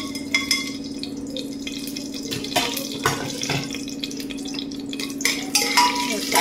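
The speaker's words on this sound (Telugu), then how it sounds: "ఇప్పుడు కొంచెం ఆయిల్ హీట్ అయ్యాక ఇందులో మసాలా దినుసులు వేస్తున్నాను." Whole spices frying in hot oil for a vegetable biryani, a steady close sizzle with a low hum beneath and scattered stirring clicks and scrapes, no voices.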